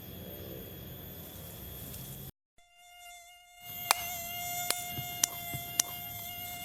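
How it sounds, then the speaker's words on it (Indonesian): Mosquitoes whining close by, a thin high buzz that drops out briefly and then returns steadier, with a few sharp clicks or taps cutting through it, no voices. "Banyak nyamuk."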